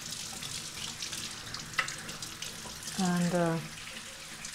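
Warm water runs steadily from a tap while a part of a Philips LatteGo 5400 series coffee machine is rinsed, with a soft continuous splash, a brief knock, and a short spoken word near the end.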